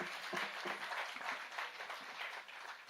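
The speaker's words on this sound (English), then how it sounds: "Let's give them a round of applause again, please." An audience applauds the Cicero Singers at an Independence Celebrations 2025 opening ceremony: dense, sustained clapping from many hands, steady and fairly distant, with no voices over it.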